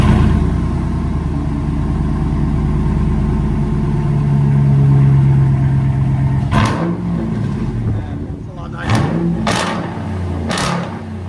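A RAM 1500 with a 5.7L HEMI V8, Black Widow exhaust, resonator delete and 5-inch Carven tips: a deep burbling idle that climbs into a rev, then a few sharp, close throttle blips with a crackling exhaust note.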